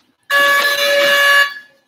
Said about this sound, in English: Press the buzzer once.